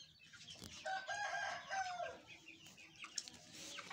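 Farmyard chickens heard near and fairly loud, a rooster crowing mixed with hens clucking and chick-like calls that rise and fall in steady bursts.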